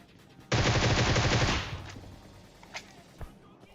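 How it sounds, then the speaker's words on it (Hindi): Rapid automatic gunfire in PUBG Mobile rattles loud and close for about a second, followed by a couple of fainter distant shots. "मैं पीछे खड़े होके मारे जा रहा हूं गोलियां"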